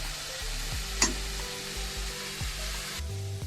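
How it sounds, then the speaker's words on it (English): Mushrooms sautéing in salted butter in a pan give a continuous, even sizzle close by, with a low hum underneath and a brief clatter near the start. "Now that our mushrooms are sauteing"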